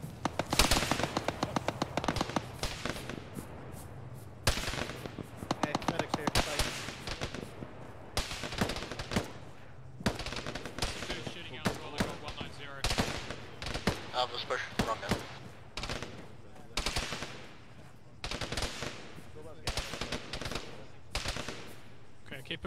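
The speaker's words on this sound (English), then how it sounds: "That was a machine gun" Machine gun fire in a ballistic military video game: loud, rapid automatic bursts repeat again and again across the whole stretch, separated by short gaps, with sharp crackling reports.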